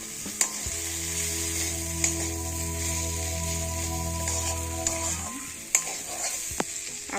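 Chopped medium tomato stirred in a pan for a vegetable khichuri: a soft, close sizzle with a few sharp spatula knocks, and a steady droning hum beneath it for most of the time before cutting off.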